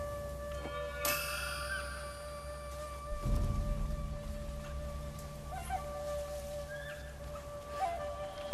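Wind chimes charm ringing in Ghost of Tsushima, a bright struck chime near one second followed by sustained metallic tones that ring on through the clip over a low rumble and soft ambient game sounds.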